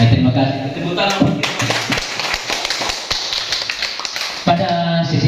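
Teachers' workshop audience clapping hands at a session closing, with bursts of crisp, rhythmic claps and loud voices speaking and chanting around them, clapping strongest in the middle stretch.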